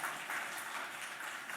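Church congregation applauding to welcome newly registered members, a steady wash of many hands clapping at moderate distance, continuous and fairly quiet throughout.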